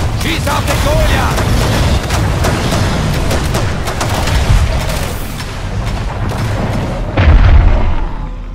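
Gunfire aimed at the Goliath monster in the Evolve video game, a dense, continuous barrage of booming shots and bursts with a heavier blast near the end, layered under chaotic game noise and voices.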